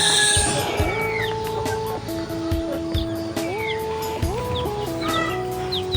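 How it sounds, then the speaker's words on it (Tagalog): Rhode Island Red chickens cluck and chirp close by in a coop, with bird calls over steady low droning tones and a few soft thumps. "kailangan si puti tsaka yung ating apat na Rhode Island ayan so yun yung mga galing ng kulungan"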